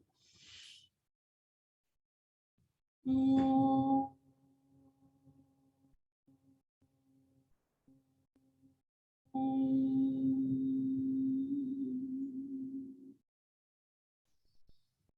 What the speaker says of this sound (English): We'll open with the sound of Om.